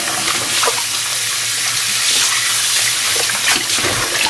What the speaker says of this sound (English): and then I'm gonna rinse them.